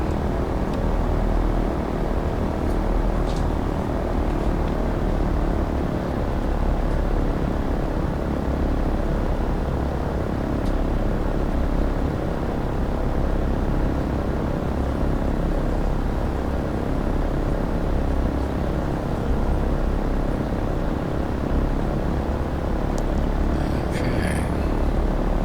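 DC-3 propeller airliner taxiing toward the runway in the X-Plane 12 flight simulator: a steady, unbroken piston-engine drone and prop hum holding at an even level throughout, with no talking.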